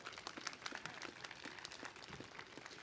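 Applause from an audience at the opening of a college nursing education center, a steady, dense patter of many hands clapping for about three seconds, fairly distant and even in level, with no talking over it.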